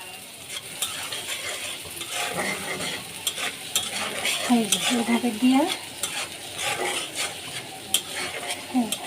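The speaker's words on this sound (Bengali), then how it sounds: "মশলা কষাইছি।" Spice masala fries and is stirred in a pan for a rohu fish curry, with a steady sizzle under repeated scraping and clinking strokes. A voice speaks briefly partway through.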